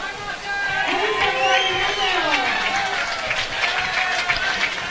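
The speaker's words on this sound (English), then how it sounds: "So let's hear some cheering for Italy." Spectators at a para-archery match at the European Para-Archery Championships in Pilsen cheer for Italy, a steady crowd roar with scattered clapping and whoops, with voices mixed through it.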